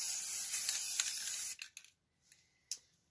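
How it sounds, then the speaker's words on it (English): Spray paint can spraying onto a surface: a close, steady hissing spray for about a second and a half, then a few short sharp bursts of spray separated by silence. "we're just going to spray paint on top of this"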